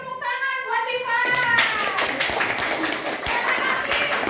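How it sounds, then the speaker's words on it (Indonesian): A classroom of pupils claps for a classmate, a burst of fairly close, uneven hand claps that starts after a voice and keeps going to the end. "Beri tepuk tangan buat Tifan."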